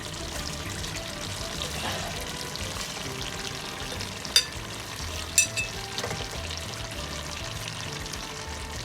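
Fenugreek (methi) leaves hit hot oil in a frying pan for a carrot, potato and fenugreek sabzi, giving a steady close sizzle with stirring and a couple of sharp utensil clinks.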